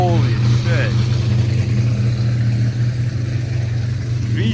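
A yellow right-hand-drive Jaguar XJR-15 supercar with a V12 engine runs steadily with a deep, loud drone that holds at a constant level throughout.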